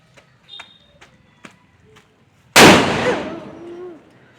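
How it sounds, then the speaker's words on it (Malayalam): Diwali firecracker going off: after a few faint taps and rustles, a single loud, sharp bang bursts out nearby and fades through a long crackling tail. "നമുക്കിനി അടുത്ത പടക്കം എടുക്കാം."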